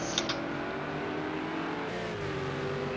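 Engine of a McLaren GT3 race car in a racing game at Catalunya, a steady loud drone holding pitch throughout with a slight shift near the end, alone without voices.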